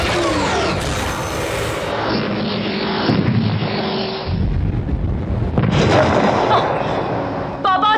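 A sci-fi G-gun fires in a superhero web series: a loud, sustained roaring energy blast with a deep rumble, shifting and surging over several seconds before a fresh burst and a crackling tail, heavy and close.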